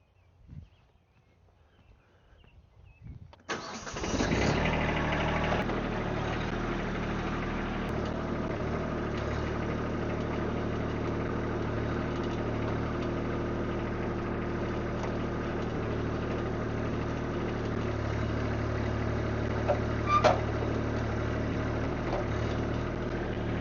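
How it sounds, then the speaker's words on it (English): A tractor engine starts after a few seconds of quiet handling noises, then idles at a steady, low, continuous rumble that stays close and loud for the rest of the clip. "I'm gonna go get my tractor"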